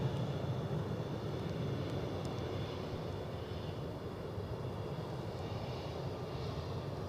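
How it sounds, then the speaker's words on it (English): An aircraft taking off at Edinburgh Airport in wet weather, a steady broad roar of jet engine noise heard from a distance, holding level throughout with no voices. "So the aircraft taking off into the weather"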